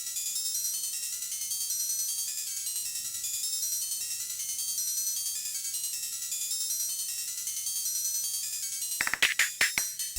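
A Teenage Engineering PO-12 drum machine plays a pattern: thin, bright electronic tones pulse steadily, then a quick cluster of sharp percussive hits lands near the end.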